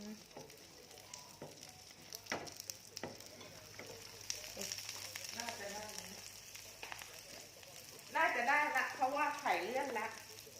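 An omelette frying in a pan over low heat gives a steady soft sizzle with scattered crackles and pops, close by, with a voice speaking over it near the end.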